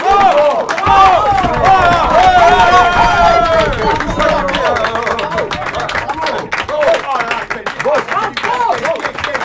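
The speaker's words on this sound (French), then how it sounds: "on monte encore d'un cran pour passer aux applaudissements emportés" Enthusiastic theatre applause from a crowd, dense sustained clapping with cheering voices over it, loud and continuous throughout.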